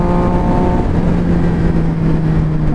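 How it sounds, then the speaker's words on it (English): A motorcycle exhaust is revved on the road, with a loud, close, gritty engine roar that rises in pitch and holds steady without talk. "what do you think of this exhaust?"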